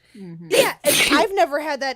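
A single sharp sneeze bursts out in the middle of a relaxed conversation, loud and close, with people chatting just before and after it.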